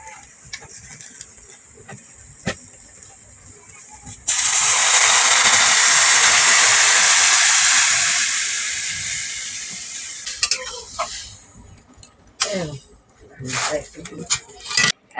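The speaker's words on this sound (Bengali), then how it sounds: "এবার জল দিয়ে দিচ্ছি।" Water hitting a hot pan of spiced soybean dal with potato sets off a sudden loud hissing sizzle that lasts several seconds and slowly fades. Clatters and stirring follow, and a voice speaks briefly near the start.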